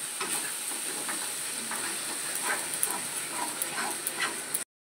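Spiced fish pieces fry in a hot wok with a fairly soft, even sizzle and scattered light crackles, ending in sudden silence.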